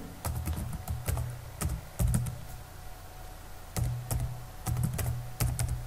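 Code being typed on a computer keyboard, close and fairly loud, with quick bursts of key clacks separated by brief pauses.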